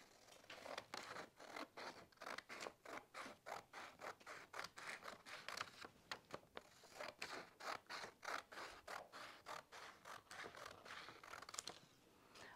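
Paper scissors snipping through craft paper while cutting out shapes for a sunshine garland, a rapid series of close, crisp scissor strokes in a steady rhythm with no talking.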